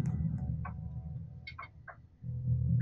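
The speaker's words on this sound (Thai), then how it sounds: "เสียงใครมาเคาะอะไรหลังคาผมปะ" Knocking on a roof in a Roblox horror game: a handful of short, sharp taps at irregular intervals over a steady low background drone.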